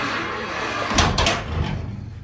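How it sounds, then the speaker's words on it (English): The full door of a 2023 Merhow three-horse stock combo trailer, model 8009RWS Next Generation, is swung shut, landing as a single close, heavy metallic thud with a short rattle over faint background noise. "So I'm just gonna shut this door."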